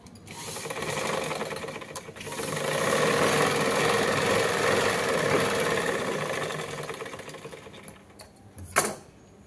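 An electric sewing machine stitches Kuchipoint embroidery on fabric with a continuous mid-pitched whirring hum that swells and eases across several runs. A brief sharp clack comes near the end, and no one speaks over the stitching.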